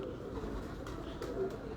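Pigeons cooing in a loft, soft low murmuring coos running steadily at moderate distance against a faint background hum.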